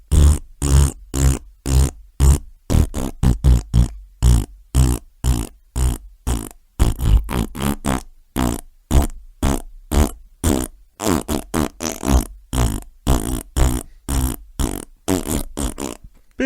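A musical piece performed entirely with vocal fart noises, a voice imitating flatulence in a rapid rhythmic run of short, loud, close blasts, one after another, with no speech between them.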